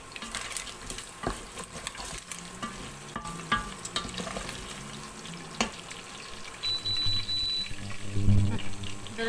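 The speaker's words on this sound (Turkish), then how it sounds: "Arkadaşlar etlerim kavrulmaya başladı." Meat browning in a pan at a home dinner, giving a steady crackling sizzle with stirring clatter throughout, with a louder bump near the end.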